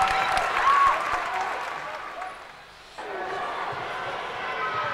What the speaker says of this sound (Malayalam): ജയറാം ഏട്ടനിലേക്ക് ഒരു നല്ല കയ്യടി four one and only Jayaram